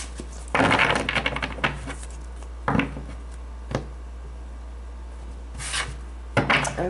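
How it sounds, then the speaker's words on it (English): Tarot cards being shuffled by hand in several separate bursts of riffling and rubbing, close and moderately loud, with quiet pauses between them. "Just shuffle these a little bit more for you guys."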